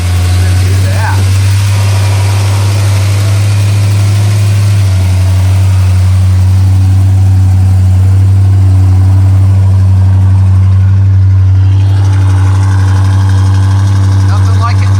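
A deep, loud Dodge Charger V8 muscle car engine idles steadily with a low rumbling throb throughout, while faint voices talk over it.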